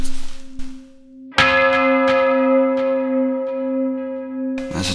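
Electric guitar imitating a church bell, with notes struck where two strings meet and treated with modulation and delay, rings out in several clear bell-like strikes over a sustained hum.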